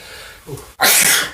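A single sharp sneeze bursts out close up after a brief intake of breath.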